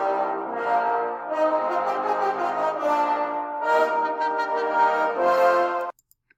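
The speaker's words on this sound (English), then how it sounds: "Together, the brass section sounds like this." A brass section plays sustained chords together, swelling and easing in several phrases before cutting off abruptly.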